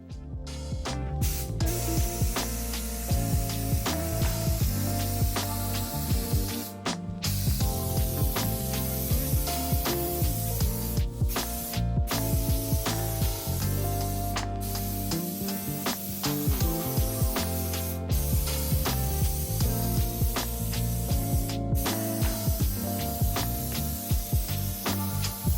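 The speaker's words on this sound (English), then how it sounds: "I'm going to get this loaded up into my gravity-fed HVLP sprayer" A gravity-fed HVLP paint sprayer coats an antique piece of furniture with chalk-style furniture paint, a continuous airy hiss that pauses briefly every few seconds as the trigger is released, under a tonal musical backdrop.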